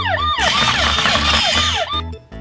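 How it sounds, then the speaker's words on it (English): A toy police car siren wails in loud, rising and falling electronic sweeps for about two seconds, then cuts off abruptly, with a brief click or clatter of the toy after it stops. "blue white police car. We have to catch him before he reaches the tunnel."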